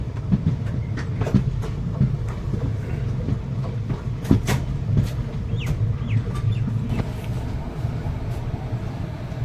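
The Teesta Torsa Express rolls into New Cooch Behar station on a foggy morning, with steady rumbling and repeated wheel clicks on the rails, sharp squeaks and rattles, and a rooster crowing faintly nearby.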